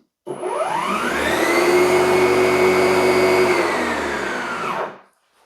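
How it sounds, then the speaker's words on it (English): A lawn mower engine starts abruptly and holds a loud, steady whining drone for about four and a half seconds, then cuts off and quickly winds down to silence, with no voices. "You can hear there's also the mower's actually got a brake on it."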